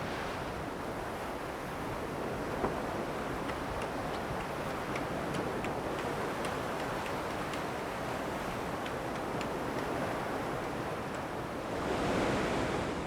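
Steady surf noise of the Mascaret waves at Rangiroa atoll rolls on without a break, with a constant broadband wash of waves and a faint ticking, swelling slightly toward the end.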